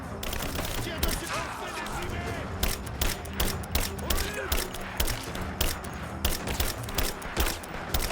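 Rapid, steady gunfire in a large battle in Rise of the Tomb Raider, evenly spaced shots repeating throughout over dense game sounds, with voices speaking over it.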